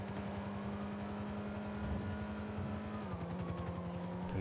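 A police helicopter in GTA V hovers close with a steady droning rotor hum and a sustained engine tone that dips slightly near the end. Traffic-like rumble runs underneath, and no speech is heard.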